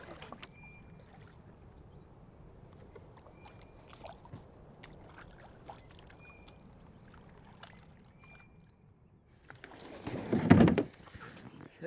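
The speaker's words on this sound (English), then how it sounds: "So I'm gonna go and bank my kayak right over there" A kayak is pulled onto a riverbank, a burst of scraping and rustling near the end after quiet paddling and water sounds, with faint birdcalls in the background.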